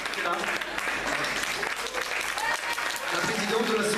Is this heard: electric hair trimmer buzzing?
no